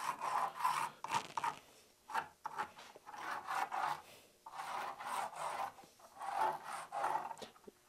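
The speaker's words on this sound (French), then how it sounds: "Je le trace directement sur le bois brut." A pencil traces a shape by hand directly on rough, unfinished wood in a woodworking shop, making repeated close, dry scratching strokes in short rhythmic bursts with brief pauses between.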